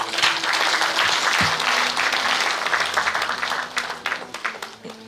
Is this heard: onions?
no